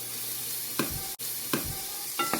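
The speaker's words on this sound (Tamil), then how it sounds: "எண்ணெய் சூடாயினோன்னு மஞ்சள் உப்புத்தோல் போட்டு பிரட்டி வச்சுருக்கிற இறாலை இதோடு சேர்ப்போம்" Shrimp coated in turmeric and salt fry in hot oil for an asparagus dish, giving a steady soft sizzle broken by three brief stirring scrapes, close by and moderately quiet.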